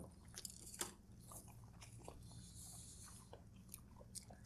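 Someone bites into and chews smoked ribs, producing soft close crunches and wet chewing sounds in quick irregular succession, quiet against a low background rumble.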